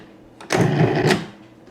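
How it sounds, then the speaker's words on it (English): A food processor pulses briefly to break butter into pastry dough, a single short whirring burst of about half a second rising out of a quiet room. "Then I'm going to run the machine just to break up the butter."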